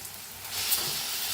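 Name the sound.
mashed eggplant bharit being mixed and sizzling in pan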